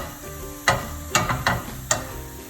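A crepe sizzling in a pan as it is pressed down, a soft continuous fry hiss broken by a few sharp scraping or pressing clicks close by.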